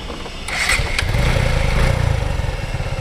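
A Suzuki Gixxer motorcycle engine starts and settles into a steady, close idle with a rhythmic low-pitched thrum.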